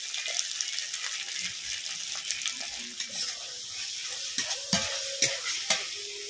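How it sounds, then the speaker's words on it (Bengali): Spices and ginger paste sizzle in a pan while being stirred for a cock chicken curry, a steady frying hiss with periodic scraping and clinking of the spoon. "সব মশলাগুলো একটু ভেজে নেব।"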